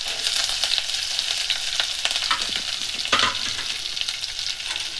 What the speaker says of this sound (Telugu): ఆయిల్ హీట్ అయినాక ఆవాలు జీలకర్ర వేసుకోండి